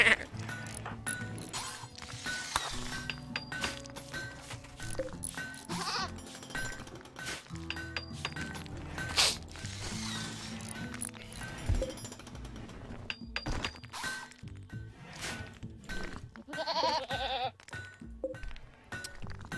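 Goats and sheep bleat repeatedly in a Rimworld colony, a busy run of overlapping calls mixed with clinks and game sounds, steady and fairly loud throughout.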